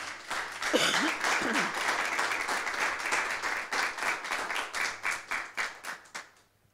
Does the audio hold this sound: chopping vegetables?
no